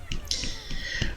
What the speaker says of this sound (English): Yes, I'm snapping my fingers.